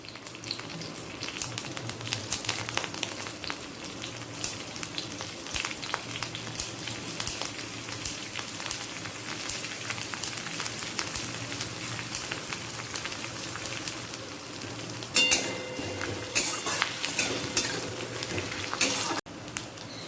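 Chopped palta leaves fry in hot oil with five-spice seasoning, a steady crackling sizzle with sharp pops and a brief louder burst of spattering near the end.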